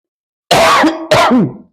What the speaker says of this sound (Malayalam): ചുമ വന്നത്